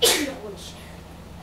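One sharp, close sneeze bursts out at the start of a casual Minecraft play session, followed by a brief spoken exclamation and quiet room tone.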